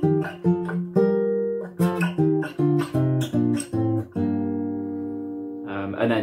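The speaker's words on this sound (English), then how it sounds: "a major scale and also at the same time playing the relative minor scale," An acoustic guitar plays major and relative minor scale shapes up the neck, with plucked notes and chords in an uneven rhythm, clear and close, then a ringing chord near the end.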